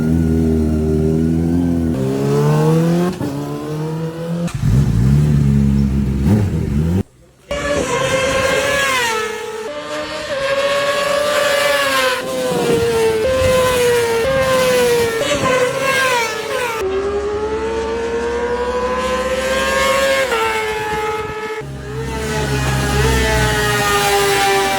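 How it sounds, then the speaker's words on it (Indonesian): Honda CBR600 motorcycles lapping the Alcarras circuit in practice, engines climbing and falling through the gears with loud, sustained high revs and shifts, close by with no talk. "latihan dari VD Ega dan juga Mario Aji serta Tayo Furusato menggunakan CBR 600 di sirkuit Alcaraz"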